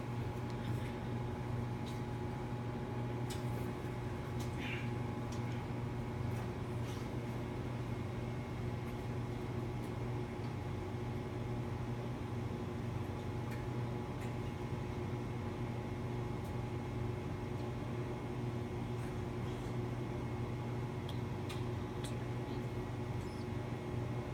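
A microwave oven running while melting chocolate, giving a constant low hum and whir that holds steady and fairly quiet throughout, with no clear talk.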